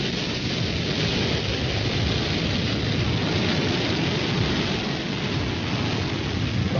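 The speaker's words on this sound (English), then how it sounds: "Liftoff of the Falcon 9." A Falcon 9 rocket lifts off with a loud, steady, broadband rumbling roar that fills the whole stretch without letting up, deep and continuous like heavy rain or thunder.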